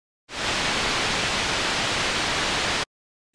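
A steady, broadband hiss of white noise through a low-pass filter, loud and constant, starting and stopping abruptly after about two and a half seconds.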